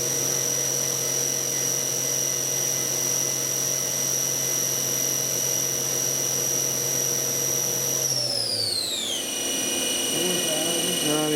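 A steady high-pitched engine whine holds at high revs, then drops sharply to a lower idle near the end, loud and continuous throughout.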